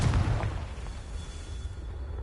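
A Confringo fire spell bursts in the Hogwarts Legacy game, a loud low boom at the start that quickly decays into a rumbling tail, with no voices.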